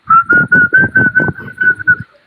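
A person whistles a bright, steady tune in about ten short, evenly spaced phrases, close and loud, with nothing else beneath it.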